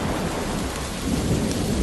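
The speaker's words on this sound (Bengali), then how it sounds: "হঠাৎ দমকা হাওয়া থেকে প্রবল ঝড় বৃষ্টি শুরু হলো" A cartoon thunderstorm roars with heavy rain pouring down in a dense, continuous wash while thunder rumbles low underneath, loud and unbroken throughout.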